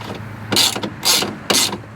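A ratchet tightening bolts on a Mercedes W124 window regulator, three close, loud bursts of rapid clicking spaced about half a second apart.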